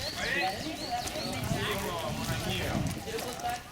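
Donkeys' hooves clop steadily along a rocky mountain trail on Canigou, an irregular walking rhythm of many animals close by, with a busy mix of voices and bird-like chirps over it.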